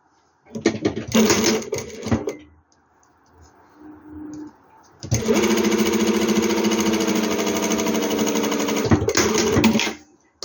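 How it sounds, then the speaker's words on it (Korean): A sewing machine stitches the shoulder seam of a women's training top in a rapid, motor-driven chatter, first in a short burst, then after a pause in a longer steady run of about five seconds before stopping. "이렇게 어깨 봉제하시고 그 다음에 오버록 쳐갖고 올게요."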